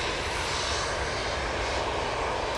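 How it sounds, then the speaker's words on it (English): An Aer Lingus airliner coming in to land at Manchester Airport, a loud steady roar of aircraft engines filling the air with no voices over it. "And yes, the Aer Lingus is coming down here."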